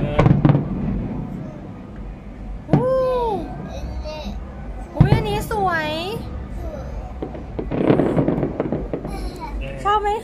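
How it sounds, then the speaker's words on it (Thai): Fireworks pop and boom over Pattaya at a New Year show, with several bursts rising through the crowd noise while a small child and adults chatter excitedly nearby. "มาดูพลุที่พัทยา"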